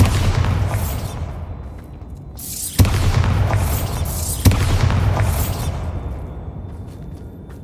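In the Hogwarts Legacy video game, the Bombarda explosion spell is cast repeatedly, producing three loud, booming blasts, each with a sharp onset and a rolling, whooshing decay, spaced a couple of seconds apart.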